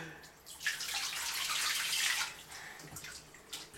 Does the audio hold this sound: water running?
yes